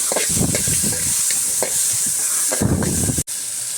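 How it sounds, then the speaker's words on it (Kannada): Onion, tomato, garlic and ginger frying together in a pan, a close, steady sizzle with repeated scraping strokes of stirring, ending with a brief dropout near the end. "ಇಷ್ಟು ಹಾಕ್ಕೊಂಡು ನಾನು ಸ್ವಲ್ಪ ಫ್ರೈ ಮಾಡ್ಕೊಳ್ತೀನಿ"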